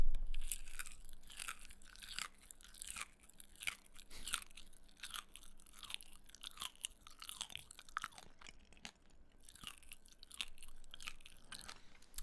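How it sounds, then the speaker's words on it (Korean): Chewing dried figs with seeds inside, close to a good microphone: steady, moist crunching and munching in an irregular rhythm for about twelve seconds, with no talk. "씹어드릴게요"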